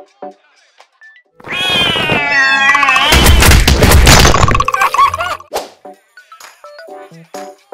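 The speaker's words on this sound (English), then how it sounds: "Yes, this is Smile Cat." The monster voice of Smile Cat from the horror video game Poppy Playtime Chapter 3 comes as loud, drawn-out distorted meows and caterwauls with harsh crashing bursts, then fades into scattered clicks and thumps.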